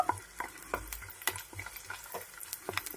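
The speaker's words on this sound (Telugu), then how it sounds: "ఇప్పుడు ఇందులోకి నల్ల ద్రాక్ష వేసుకోండి. వేసుకొని ఇవి కాస్త పొంగేంత వరకు వేపుకోండి" Black raisins fry in ghee, giving a soft continuous sizzle broken by quick, frequent stirring scrapes and light utensil taps, close and fairly quiet.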